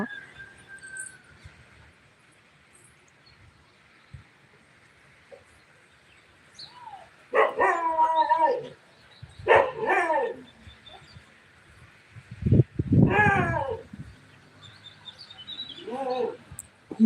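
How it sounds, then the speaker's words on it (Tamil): A dog barks in short, separate bursts of a few barks each, spread across an evening outdoor scene at moderate distance, with birds chirping faintly between the barks. "நாய் குலைக்கிறது"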